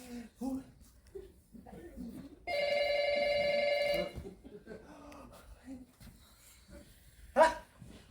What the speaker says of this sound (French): le téléphone sonne, vous ne répondez pas?